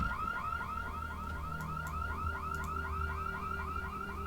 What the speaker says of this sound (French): C'est le véhicule que je viens de prendre qui sonne là.